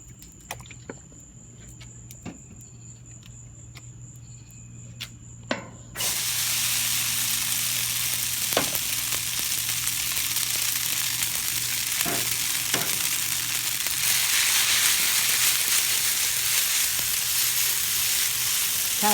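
Noodles hit a hot Blackstone griddle and erupt into a loud, steady, close sizzle that holds for many seconds, with a few scrapes and clicks on top; before that, a quieter room hum with faint ticks.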